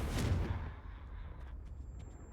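A Confringo fire spell bursts in the Hogwarts Legacy video game, a loud blast at the start that quickly fades into a low, rumbling tail with faint crackles afterward.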